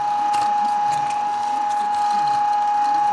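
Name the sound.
meat grinder doing final fine grind of moose meat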